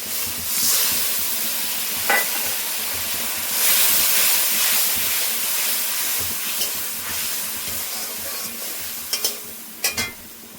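Whole spices and masala sizzle and crackle in hot oil in a pan for a Bengali fish curry with potato and eggplant, a steady close fry with occasional stirring scrapes and sharp clicks near the end.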